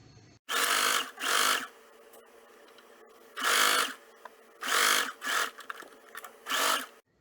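Home sewing machine stitching apron fabric in several short bursts of loud whirring, separated by quiet pauses between runs.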